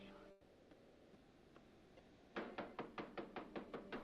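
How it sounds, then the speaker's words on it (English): A run of about a dozen firm, evenly spaced knocks on a temple door in a film scene, close and resonant, set against a quiet room tone. "Who knocks at the temple door in the proper manner?"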